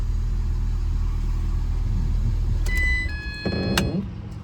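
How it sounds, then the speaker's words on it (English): A 2010-2013 Ford Transit Connect engine idles with a steady low rumble throughout, joined near the end by a few brief electronic beeps and a short mechanical whir. "The vehicle's running."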